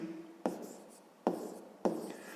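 A pen writes a math solution on paper in three short bursts of scratchy strokes, close and quiet, separated by brief pauses.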